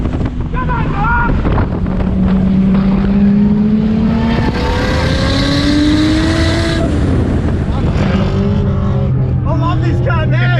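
A 635 HP 26DETT-powered VL Commodore driving on a race track, its engine revving loudly with rising and falling pitch through gear changes, buffeted by wind noise, while people shout and talk excitedly nearby.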